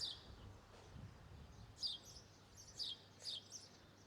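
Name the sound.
small bird chirping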